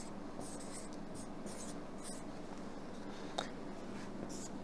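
Marker squeaking across a board, with several short strokes and scratches close up over a steady background hum, no talking.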